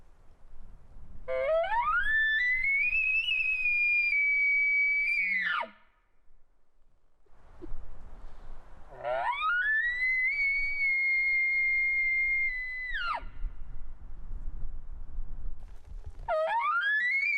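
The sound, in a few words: elk bull locator call imitated with a call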